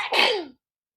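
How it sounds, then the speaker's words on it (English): A single short, sharp sneeze, heard alone and followed by silence. "pollen makes many people sneeze"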